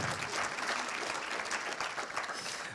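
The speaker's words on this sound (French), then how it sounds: "vous pouvez applaudir Philippe." Audience applause at the opening of a French housing and territories awards ceremony, a steady dense clapping from a large crowd that fills the room for a few seconds without pause.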